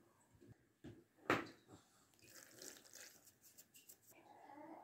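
Hot broth is poured from a vessel into a bowl, a soft, quiet liquid splash and trickle lasting a couple of seconds after a brief knock, heard close in a calm kitchen.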